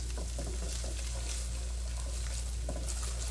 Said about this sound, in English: I'm going to put my onions and my peppers in.